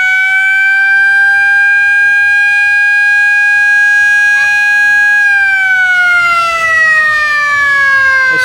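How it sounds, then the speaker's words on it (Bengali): A river launch sounds its loud, sustained siren at departure, one continuous tone held steady and then sliding lower, very close and dominating the scene. "সারেং মশাই কিন্তু সাইরেন দিচ্ছে, তার মানে ছাড়ার সময় হয়ে গেছে"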